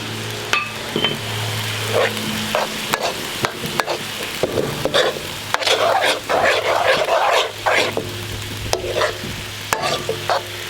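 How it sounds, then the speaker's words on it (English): Egg frying in a wok while cooking pad see ew with chicken, with a soft sizzle under repeated sharp clacks and scrapes of a utensil stirring against the pan, close and busy throughout. "put the egg in. And let that cook."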